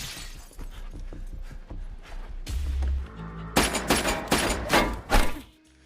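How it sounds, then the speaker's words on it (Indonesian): Gunfire in a shootout scene from the 2020 film Time to Hunt, with a rapid burst of sharp, loud shots close up, shattering impacts and a dense volley near the end, set against rumbling film sound and music. "Mereka mencoba melarikan diri namun gagal karena Han berhasil menemukan dan terus menembaki mereka"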